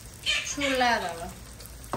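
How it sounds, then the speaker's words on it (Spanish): Flour-coated mojarra fish frying in hot oil in a pan, a close hiss and crackle swelling briefly, with a short tonal voice-like sound near the end. "Vamos a colocar aceite ya en el sartén y nos vamos a sofreír los pescaditos."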